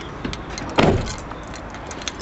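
A Golf Mk5 car door shuts once with a single solid thump in the middle of the clip, set against faint background noise with a few small clicks around it.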